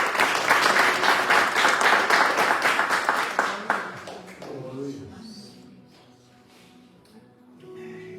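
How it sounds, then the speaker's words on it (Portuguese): A church congregation at a Bible study service applauds in a dense, loud burst of clapping that fades out after a few seconds, followed by quieter room sounds and a voice speaking. "E você que pode, aplaude ao Senhor."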